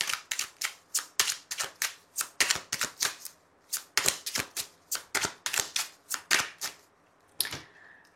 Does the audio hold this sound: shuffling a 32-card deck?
yes